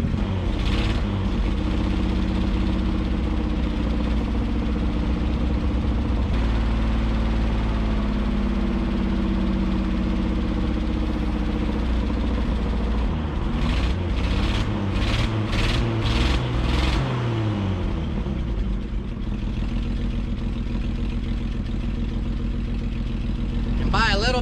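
A 1964 Ford F100 pickup engine idles steadily up close, its low rumble continuous throughout with a possible slight exhaust leak or lifter tick, and a voice speaks over it.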